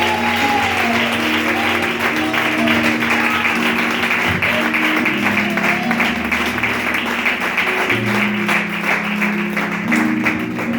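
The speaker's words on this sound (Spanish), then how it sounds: "Pueden dar un aplauso al Señor en esta tarde." A church congregation claps together at an afternoon service, steady applause running the whole time beneath a warm, sustained layer of music and voices.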